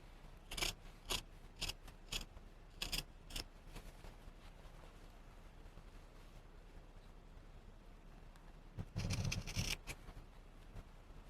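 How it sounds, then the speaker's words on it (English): Scissors snipping through fabric while sewing a holiday vest, a run of quick crisp cuts near the start, a pause, then another short burst of close snips near the end. "I'm being real careful to just cut the fabric and not the pocket and everything else inside."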